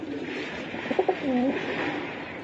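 A giribaj pigeon gives a soft, brief cooing call midway through, faint against a steady background hiss and murmur.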